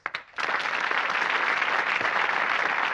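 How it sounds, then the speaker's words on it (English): A television game show studio audience breaks into loud, sustained applause after a brief pause, clapping steadily and densely to the end. "A round of applause."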